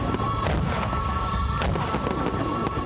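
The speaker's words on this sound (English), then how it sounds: "The celebrations started early with fireworks over the capital." Fireworks over Port Moresby at dawn for Papua New Guinea's Independence Day celebrations pop and crackle in a dense, continuous rattle, with loud bursts layered over a constant outdoor din.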